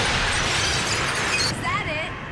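A loud shattering crash from a TV show fills the clip, with a dense burst of debris that thins out toward the end while voices come in faintly.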